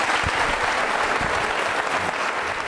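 Dense, steady clapping from a studio audience at an Independence Day quiz show with NCC cadets, loud and close, sustained throughout without voices over it.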